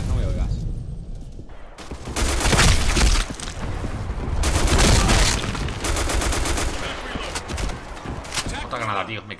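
Grenade blasts and gunfire in the shooter game Black Squad: loud, dense bursts of shots and booming explosions come in waves across the whole stretch, with a player talking over the battle.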